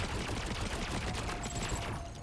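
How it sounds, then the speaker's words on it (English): Borderlands game combat fills the clip with a continuous dense wash of rapid gunfire and blasts, loud and busy throughout, with grenades going off among the shots. "Are you throwing grenades at me, sir?"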